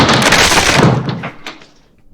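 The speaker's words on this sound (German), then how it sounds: "Wortlos wirfst du dich wieder gegen die Tür." A character throws his body against a door in the video game Disco Elysium: a single loud, close thud with a brief rattling decay that fades out within about two seconds.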